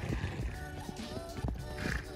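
Horses in a paddock move about, with hoof thuds and a whinny or two, close and fairly loud under steady outdoor noise, and a voice speaks briefly.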